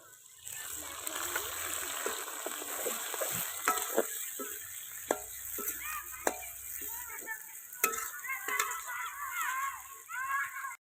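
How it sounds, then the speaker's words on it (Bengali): Chopped capsicum of two kinds stir-fried with chopped chillies in hot oil for fried rice, a steady close sizzle with sharp spatula scrapes and clacks against the pan scattered throughout, no voices. "দুই রকমের ক্যাপসিকাম কাটা রয়েছে, এগুলো সব দিয়ে দেবো।"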